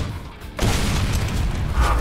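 A Torque Bow, a grenade-firing crossbow in the video game Gears of War 4, fires with one abrupt, heavy boom. A loud, sustained rushing roar follows the shot.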